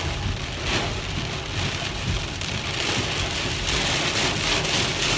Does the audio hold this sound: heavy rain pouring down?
yes